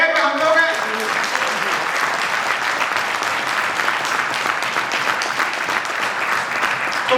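An audience at a direct-selling motivational talk claps steadily, a dense, close wash of hand claps that runs for the full stretch at an even level, with a faint voice near the start.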